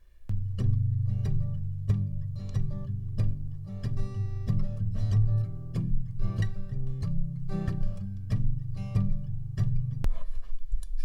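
Guitar strumming a 1-6-4 chord progression in the style of a song, a steady close-up run of repeated strummed chords lasting several bars and then trailing off.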